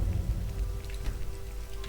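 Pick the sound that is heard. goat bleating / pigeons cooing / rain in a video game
rain in a video game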